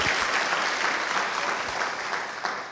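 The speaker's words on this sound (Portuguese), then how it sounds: "Aplauda, irmãos." Steady applause from a church congregation during a worship service, dense and even clapping throughout with little else heard.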